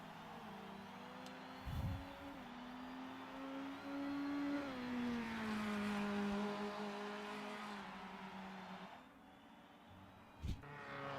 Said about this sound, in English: As Bob Damos rounds the final couple of corners.